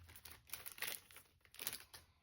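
Crinkly plastic packaging of sew-on cross-stitch project tags being pulled open, with several bursts of close, soft crackling and rustling over about two seconds and no talking.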